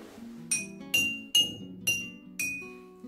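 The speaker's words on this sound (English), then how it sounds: "how to make this xylophone using glasses and water" A water-filled glass xylophone struck five times in a slow, even series, each tap a bright ringing chime that decays over a soft background tone, close and alone with no voices.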